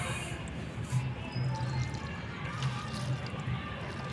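Liquid is poured onto soil in an 18 by 18 grow bag, giving a steady soft trickling and gurgling wash that soaks in, close and moderately loud with no talk over it.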